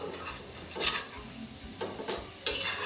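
Coriander vadi pieces pan-frying, a soft crackling sizzle broken by several bursts of spatula scraping and stirring against the pan, fairly quiet and close.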